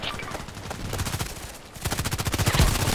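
Gunfire from a KelTec KSG pump shotgun in the online shooter Contract Wars: a run of rapid, repeated sharp shots, a short lull in the middle, then another closely spaced burst that grows louder toward the end.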